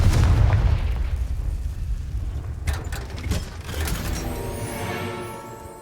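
A Confringo blasting spell detonates in Hogwarts Legacy: a heavy rumbling boom at the start, then a second burst of sharp cracks and a fading, ringing tail.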